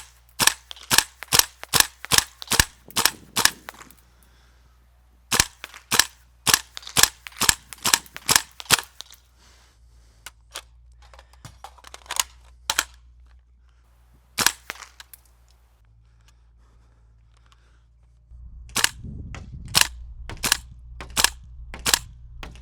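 Rapid strings of sharp airsoft gun shots fired at targets 75 feet away, in quick bursts with short pauses between volleys, crisp and close, with no talking.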